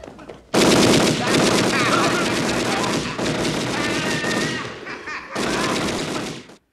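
Tommy gun fire from the movie Home Alone 2 comes in long, loud, rapid bursts of machine-gun shots, broken by short pauses, with a voice in the mix.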